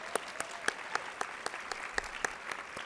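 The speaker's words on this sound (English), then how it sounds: "how about another round of applause for Alex?" Sparse applause from a seated conference audience at an opening session in San Diego, a few distinct claps spaced out in a thin, fading round rather than a full ovation.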